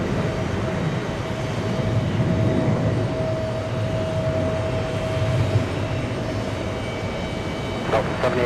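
Delta jet airliner, a heavy jumbo bound for Prague, taking off from runway 22 right at JFK Airport, New York, on a hot summer day; a steady broad engine roar with a sustained whine holds throughout, moderately distant, with faint background voices.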